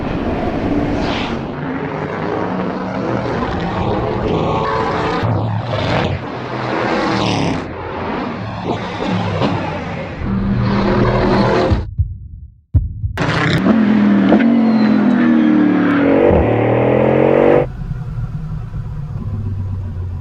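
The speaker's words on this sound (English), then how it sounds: "This car accelerates like nothing else I've ever experienced" A Bugatti Bolide hypercar accelerates hard on a track, its engine roaring loudly through rising gear pulls with brief cuts at each shift, then a short pause before another surging run that fades out.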